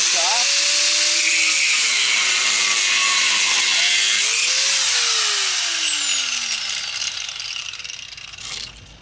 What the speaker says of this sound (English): I'm gonna get my little grinder and grind this off.